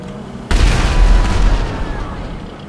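A bomb goes off in GTA Online during an acid lab mission: one sudden loud boom with a deep rumbling blast that rolls on and slowly fades over a couple of seconds, with no voices.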